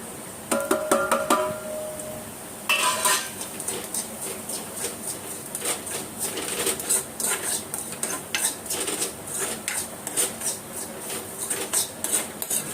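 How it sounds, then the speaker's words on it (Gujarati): Semolina (sooji) poured into a pan with a little oil while making upma, then stirred with a metal spoon, giving repeated close scraping and clinking against the pan in an uneven rhythm, with no talking. "હવે નાખી દઈશ અંદર સોજી."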